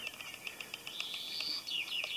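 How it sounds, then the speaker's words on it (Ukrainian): Faint, high bird chirps and tweets repeating over a soft outdoor hiss, distant and quiet. "пташки співають."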